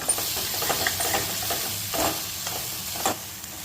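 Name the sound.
stirring mixed vegetables with chili and coriander-cumin powder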